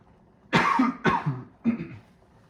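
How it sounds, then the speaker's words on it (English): Three close, harsh coughs in quick succession, loud and near, the last one slightly weaker. "Gross cough incoming."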